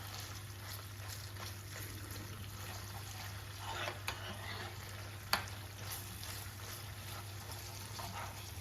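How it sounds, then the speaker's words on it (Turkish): Tomato paste sizzling with onions in a pan, the base for meat-stuffed cabbage rolls, gives a steady soft frying hiss under a low hum, with a couple of faint clinks partway through. "Evet salçamız dağlandı."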